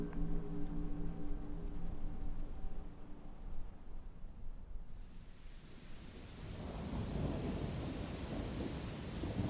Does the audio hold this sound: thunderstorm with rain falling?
yes